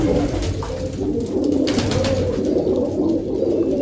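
Domestic pigeons kept by a hobbyist coo under a steady, noisy outdoor background, the low calls blending into constant hum and occasional voices.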